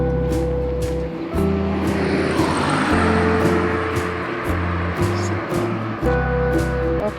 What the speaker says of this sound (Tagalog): Ang dami sasakyan.